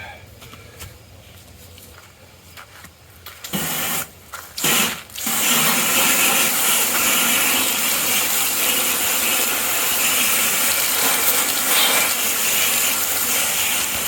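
A water spray rinses the copper coil of a Mr. Cool DIY mini split, starting with a few short bursts and then becoming a loud, steady, close hiss that continues to the end.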